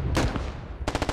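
Gunfire from the Squad video game during a one-life operation: one burst of shots near the start, then a rapid string of about six evenly spaced shots near the end, loud and close, with no talking.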